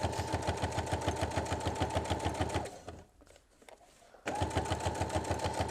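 Sewing machine stitching a seam on fabric bunting about an eighth of an inch from the edge, a steady rapid mechanical chatter close by that stops briefly and then resumes.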